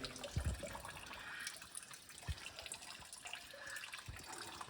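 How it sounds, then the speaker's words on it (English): Coolant drains from a Chevy LQ4 Suburban engine stripped down at the front end, a faint continuous trickle and splash of liquid with a few soft knocks in the background, no voices. "coolant draining"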